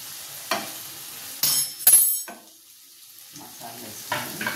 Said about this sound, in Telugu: మిరపకాయలు ఫ్రై అయినాము చూడండి